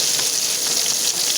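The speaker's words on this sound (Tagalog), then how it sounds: "Ilagay na po natin yung" Meat sizzles loudly in a hot frying pan, a dense, steady hiss and crackle that continues without a break.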